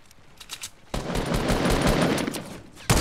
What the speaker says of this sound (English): Now he's getting shot from somewhere else.